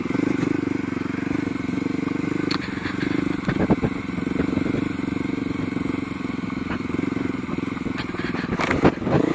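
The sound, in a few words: motorcycle riding on rough trail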